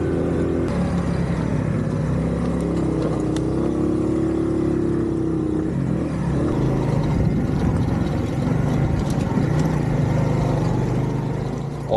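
A Honda CD70 motorbike engine labors up a steep hill road in poor condition, a continuous strained drone that rises and wavers under load, close and steady throughout.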